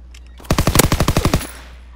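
Rapid burst of BAR machine gun fire in an online shooter game, about ten sharp shots in a quick even rhythm lasting under a second, loud and close against a quiet background.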